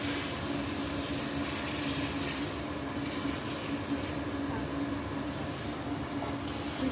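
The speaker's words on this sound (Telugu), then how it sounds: "బేసన్లో కొద్దిగా హాట్ వాటర్ పోసుకుంటూ కలపాలి." Hot water is poured into besan batter while it is being stirred, a steady soft splashing trickle continuing throughout at moderate level.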